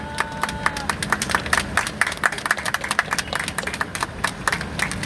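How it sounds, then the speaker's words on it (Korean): Steady applause fills a Korean church gathering as the crowd welcomes a pastor, many crisp overlapping claps at a brisk rhythm across the whole stretch. "큰 박수로 맞이해 주십시오."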